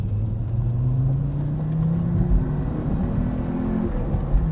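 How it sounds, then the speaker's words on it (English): An Audi Quattro accelerates hard out of a roundabout, its engine note climbing steadily in pitch from around 2,500 rpm, loud and close from inside the car with a constant road rumble underneath. "Let's just accelerate out of this roundabout now."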